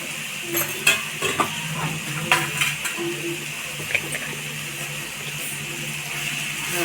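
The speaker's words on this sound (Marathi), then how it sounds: "आता हे आपण चांगलं मिक्स करून घेऊया आता कांदा छान भाजलेला आहे" Onion fries with a spoonful of turmeric in a pan for egg bhurji. A spoon stirs it, giving irregular clinks and scrapes over a soft, steady sizzle, close up and without talk.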